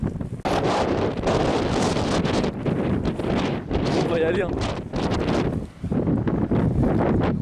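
Strong wind buffeting an outdoor microphone in cold weather, a loud rough roar nearly throughout with brief dips, while a person speaks over it.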